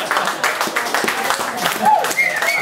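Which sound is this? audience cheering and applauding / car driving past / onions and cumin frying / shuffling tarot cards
audience cheering and applauding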